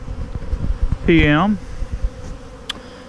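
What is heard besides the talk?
honey bees buzzing around a hive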